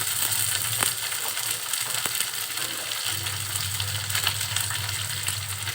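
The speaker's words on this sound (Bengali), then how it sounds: "যখন নেড়ে চেড়ে 2 মিনিটের মতো ভাজা হয়ে যাবে" Okra frying in oil in a pan with a continuous close sizzle, while a spatula stirs it and scrapes the pan in occasional sharp clicks.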